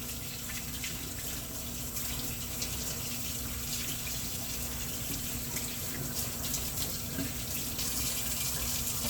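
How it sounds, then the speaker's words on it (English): A kitchen sink tap runs steadily while hands are washed under it, a continuous close hiss of flowing water with faint splashing and no voices. "first I'm going to wash my hands off"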